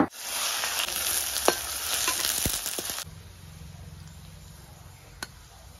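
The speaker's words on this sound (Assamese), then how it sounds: "এতিয়া এই পিয়াজখিনি মই তেলত ভাজি লম" Onions frying in oil for chicken biryani, a loud close sizzle with stirring scrapes for about three seconds, then dropping to a quieter simmering hiss with an occasional clink.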